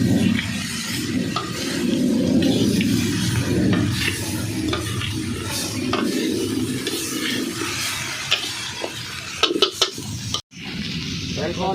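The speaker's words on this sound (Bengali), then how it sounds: "এখন থোরটা ছেড়ে দাও, থোরটা একটু ভেজে নেই।" Chopped banana stem frying and being stirred in a pan, with a steady close sizzle and scraping utensil clatter, a few sharp knocks near the end.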